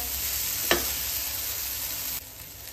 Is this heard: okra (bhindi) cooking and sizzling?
yes